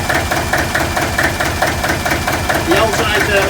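A large engine, just started and settling into a slow idle around 550 RPM, gives a steady, close, loud rhythmic thumping with evenly spaced beats.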